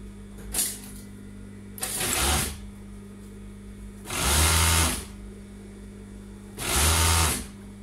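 A sewing machine stitches the underarm seam of a dress in three loud bursts of rapid mechanical whirring, each lasting under a second, separated by pauses with a low steady hum and faint handling sounds.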